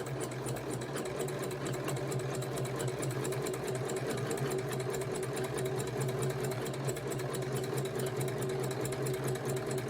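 A sewing machine fitted with a walking foot stitches quilt block pieces together, a steady fast mechanical whirring and rapid needle ticking that runs continuously and evenly at close range without pause or voices.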